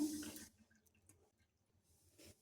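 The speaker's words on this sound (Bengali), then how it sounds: "একটু ঠান্ডা জল ঢেলে দিলাম।" Cold tap water is poured over boiled pasta, a short close splashing burst that stops quickly and leaves faint scattered drips.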